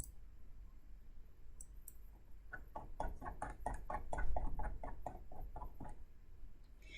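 Rapid series of crisp computer mouse clicks, a dozen or so close taps in quick succession during drafting software work, over quiet room background.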